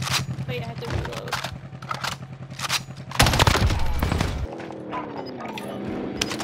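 Rapid automatic gunfire in Call of Duty Warzone, dense bursts of shots crackling close and loud across the whole stretch, with a player talking over the shooting.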